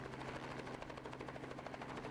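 A helicopter hovers during a beer-opening challenge, a bottle opener tied to its right skid; steady rapid rotor chop, moderately loud and continuous, with no talk.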